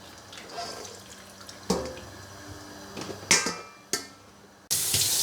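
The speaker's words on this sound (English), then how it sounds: "I'm going to rinse it with hot water from the sink as well." Hot water from a kitchen sink tap, used to rinse banana leaves, bursts on near the end as a loud steady rush, preceded by scattered clinks, drips and handling sounds.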